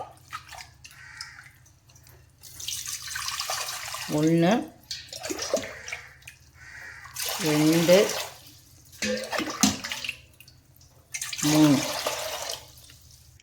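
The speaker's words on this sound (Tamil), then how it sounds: "இதுக்கு இப்போ குக்கரில் 3 டம்ளர் தண்ணி சேர்த்துக்கலாம்." Water is poured from a tumbler into a pressure cooker three times for millet porridge, each pour a gurgling splash a few seconds apart, with a voice counting aloud between them.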